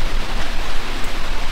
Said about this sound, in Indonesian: Karena ini ada hujan, jadi saya mau berteduh dulu.